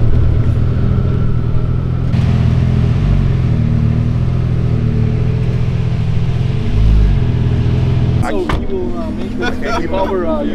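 A loud exhaust note from a sports car in a race between a Lamborghini Aventador SV and a TechArt Porsche 911 Turbo S. Low engine rumble holds steady and swells once, then drops away abruptly as voices talk over it.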